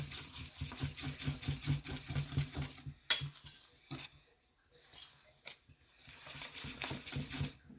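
Batter being whisked in a bowl makes a rapid, rhythmic ticking and swishing, close and moderately loud, followed by a sharp clink and quieter scattered stirring strokes.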